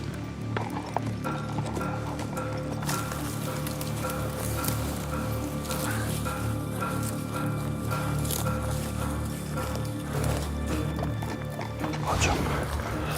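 A horse moves along outdoors with hooves clip-clopping steadily in an irregular rhythm against a constant background hiss, fairly close and moderately loud, with no voices over it.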